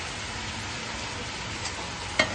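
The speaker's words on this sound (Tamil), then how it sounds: "இதை போட்டு எல்லாத்தையும் வடிவாக மிக்ஸ் பண்ணி எண்ணெயில் வதங்கிடுறேன்." Tomatoes and chicken fry in oil for a chicken curry, giving a steady, soft sizzle with a brief sharp clink near the end, and no voices.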